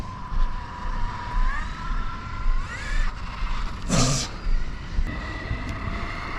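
A Losi Super Baja Rey 2.0 RC desert off-road truck runs at half throttle, its electric motor whine rising and shifting in pitch with a sharp burst of dirt or skid noise midway, steady and fairly close.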